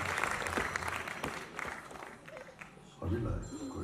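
A concert audience at a musical show applauds the song sponsors with a rolling, moderately faint spread of clapping and crowd noise, overlapped by talking and a short burst of other sound near the end.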